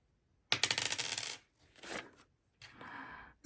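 Dice roll and rattle across a hard surface in three separate bursts, the first loudest and busiest, the later ones shorter and softer, with no talking.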